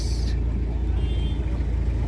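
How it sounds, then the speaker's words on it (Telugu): Heavy road traffic of cars and buses on the way to the Medaram Sammakka–Saralamma festival: a steady, close engine rumble with a brief hiss at the start and faint voices underneath. "మస్తు ట్రాఫిక్ ఉంది ఫ్రెండ్స్."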